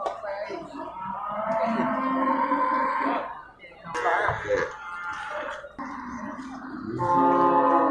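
Aceh cattle low and moo in bursts at a busy livestock market, the calls rising and breaking off between pauses while people talk nearby.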